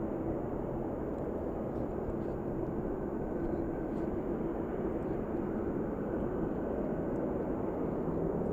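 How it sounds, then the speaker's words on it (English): A UPS jet's engines spool up on a freezing day at Anchorage airport, a steady broad roar holding at a fairly low, even level throughout with no voices. "UPS spooling up"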